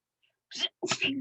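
A single close sneeze breaks a quiet pause in a conversation, a brief sharp intake followed by a louder burst, with no talk over it.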